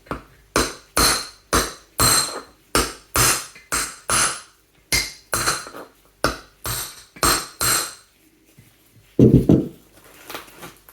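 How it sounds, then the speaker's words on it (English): Steady series of sharp metallic hammer strikes on a Ford Fiesta brake caliper piston, close and loud, about two per second, then a short pause and a final duller, heavier knock. "try and hammer the piston back into the right place"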